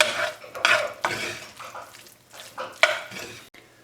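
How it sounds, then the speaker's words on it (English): Noodles stirred in a pan with onions and cheese, close spoon scrapes and clinks against the pan in uneven bursts over a light sizzle, no talking. "we're just going to give this a good mix, making sure it's all coated with the onions and the cheese"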